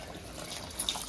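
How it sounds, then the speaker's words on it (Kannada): Water is poured into a pot of rice and partly cooked fried chicken for biryani, a faint, steady, low-level trickling and splashing with a slight swell near the end. "ಇವಾಗ ನೀರು ಸ್ವಲ್ಪ ಹಾಕೋಣ."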